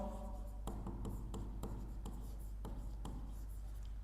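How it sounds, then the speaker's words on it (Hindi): Pen or marker strokes writing a torque formula by hand, heard as a series of short scratchy taps and strokes over a steady low hum, close and fairly quiet. "पहले मैं फॉर्मूला लिख रहा हूं"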